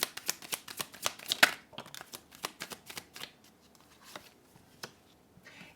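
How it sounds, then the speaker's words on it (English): Tarot cards riffle and slap together in a fast run of crisp shuffles, close and fairly quiet, slowing into scattered taps toward the end. "let's pull out a couple more cards, guys, and see how that ties in"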